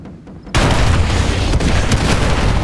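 A sudden, loud, close explosion from gunfire in Call of Duty Modern Warfare 2 Remastered bursts in and sustains as a heavy roaring blast with crackling debris, after a quiet lead-in.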